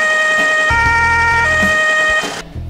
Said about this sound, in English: The new ambulances come with regular electronic two-tone sirens.